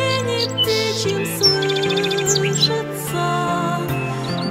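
Birds sing and chirp in a bright mix of calls and trills, steady over a few seconds with some musical tones beneath.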